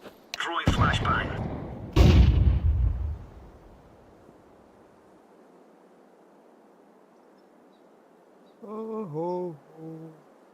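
A flashbang grenade in Counter-Strike 2 goes off with two sharp, loud bangs followed by a long fading ringing hiss, and a brief voice is heard near the end.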